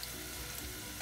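Red onions fry in a pan with a steady, faint sizzle and crackle that fills the whole second, no voices present.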